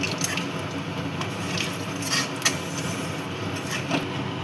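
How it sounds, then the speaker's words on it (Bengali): Black cumin, bay leaf, dry chilli and whole garam masala frying in hot oil in a pan, giving a steady close sizzle dotted with small pops and crackles, with no talking. "এবার এটাকে ভেজে নেব ভালো করে"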